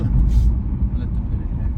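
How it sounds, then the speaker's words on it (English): Inside an Infiniti Q60 Red Sport fitted with Stillen intakes and downpipes, the turbo engine drives through a tunnel as a steady, loud low rumble with a brief hiss above it. "Let's see how the turbo sounds in this tunnel."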